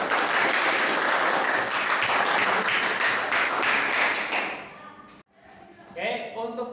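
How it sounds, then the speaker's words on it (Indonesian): Schoolchildren in a classroom applaud during an Islamic religious education lesson, a dense burst of clapping that fades out after about four seconds, followed by a sharp knock and some brief movement noise. "Beri tepuk tangan dulu."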